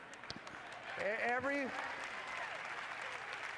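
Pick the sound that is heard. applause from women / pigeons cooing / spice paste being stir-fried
applause from women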